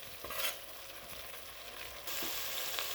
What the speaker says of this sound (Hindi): तकरीबन 10 मिनट हो चुके हैं हमें मसाला पकाते हुए